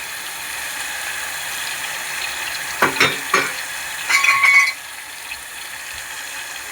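A tadka vegetable curry being stirred in a pan, giving a steady background sizzle with a few louder scraping, clattering bursts from the spoon midway through.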